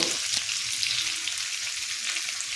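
Onions with dried red chilli frying in an oil-filled pan for prawn malaikari, a steady close sizzle and crackle that holds even and bright for a couple of seconds with no voices.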